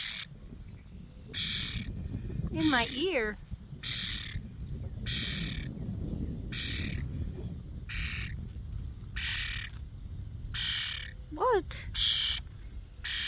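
Pet bird squawking indoors, several short harsh squawks and a few rising whistled calls repeating at intervals, close and fairly loud, with a person talking quietly to it between the calls.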